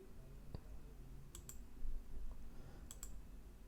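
Mouse clicks on a popup dialog button, a few faint sharp taps spaced apart over a quiet room hum.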